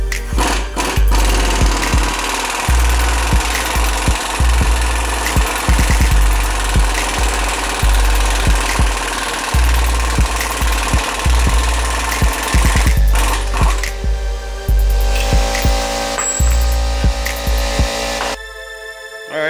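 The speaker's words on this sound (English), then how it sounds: "take the axle nut off." A power tool loosens the axle nut on a 2007-2016 GMC Acadia during CV axle replacement, a loud, continuous rattling hammer that runs in long bursts with brief pauses, close up, ending in a quieter mechanical stretch.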